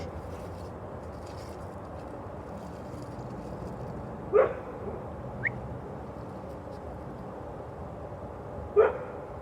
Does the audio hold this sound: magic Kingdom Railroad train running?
no